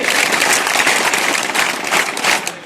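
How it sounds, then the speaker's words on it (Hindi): An audience at a police recruitment guidance camp claps together, a loud, dense burst of many hands that runs on well past a few claps, steady and close. "मैं 3 ताली बोला था, आपने ज्यादा ताली बजा दी है"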